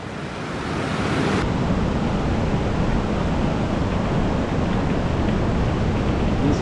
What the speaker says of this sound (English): this is where it really begins, always, at this set of rapids.